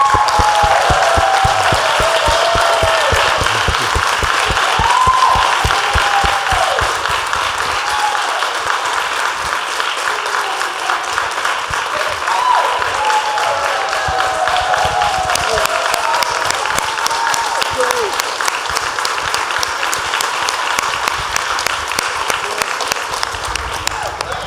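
Sustained applause from a conference audience for the volunteers, dense steady clapping filling the room throughout, with a voice speaking over it for part of the time.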